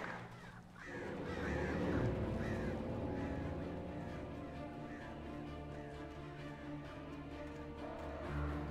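Crows in the game Alan Wake caw harshly in a cluster of overlapping calls, sounding over a low, steady rumble of ambience that carries on after the calls fade.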